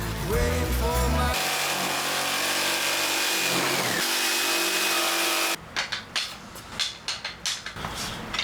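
A jigsaw cuts small wooden pieces with toothed shapes, its loud motor whine and buzz running steadily for several seconds. It then gives way to choppier, stuttering bursts near the end.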